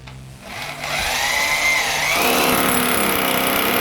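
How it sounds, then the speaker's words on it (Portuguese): A Bosch professional impact drill with a 6 mm bit bores into a wall, spinning up from a low hum to a loud, steady grinding whine that holds to the end. "Uma furadeira da Bosch, profissional, de impacto. Vou furar com a broca 6."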